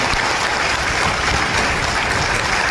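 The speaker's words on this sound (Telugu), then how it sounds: "మీ చప్పట్ల ద్వారా మీ ఆమోదం తెలియజేయవలసిందిగా కోరుతున్నాను" A conference hall audience at a bank employees' triennial conference in Hyderabad applauds in approval, a continuous, even wash of clapping from many hands.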